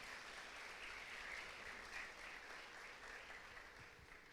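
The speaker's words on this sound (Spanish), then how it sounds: "Dele fuerte el aplauso al Señor" A church congregation applauds together during a Spanish-language sermon, a steady, dense wash of clapping that stays strong throughout and eases slightly toward the end, with no voices audible over it.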